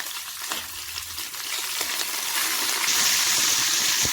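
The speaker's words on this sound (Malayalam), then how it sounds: "ഈ എണ്ണയിൽ പച്ചമുളകും കറിവേപ്പിലയും വറുത്ത് കോരാം." Green chillies and curry leaves fry in hot oil for a Kerala-style cauliflower fry, a close, steady crackling sizzle that swells louder and brighter partway through, with no voices.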